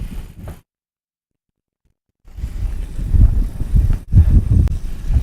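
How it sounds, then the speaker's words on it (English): A 1953 Cessna 180 with a 260-horsepower engine idles while taxiing to the line at a short-field STOL event in Tehachapi, California. A short burst comes first, then over a second of silence, then a steady, close, low rumble. "So this is a 260 horsepower engine."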